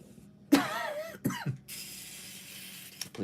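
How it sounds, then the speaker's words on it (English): A person indoors at a model-making bench coughs twice in quick succession, close and moderately loud, followed by a quiet room hiss and a faint click. "Please excuse me, I think I've got the beginnings of a cough coming."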